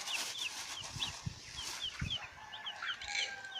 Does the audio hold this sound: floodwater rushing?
no